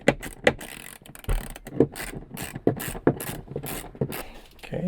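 A ratchet loosens a T30 Torx fastener on a 2024 Sprinter van, producing repeated close clicking strokes in an irregular rhythm, with no talking.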